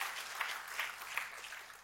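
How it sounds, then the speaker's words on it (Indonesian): A church congregation applauds during a sermon, a steady wash of clapping at moderate distance with a few slightly louder swells, no voice over it. "Tepuk tangannya yang paling meriah buat Tuhan kita."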